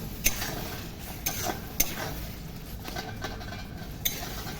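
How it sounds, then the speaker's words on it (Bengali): A utensil stirs tomato into spices in a pan, giving steady scraping and a soft sizzle. Sharp metallic clinks come at irregular intervals, close and alone. "নেড়ে নেড়ে এইভাবে একটু ভালো করে গলিয়ে নেবো।"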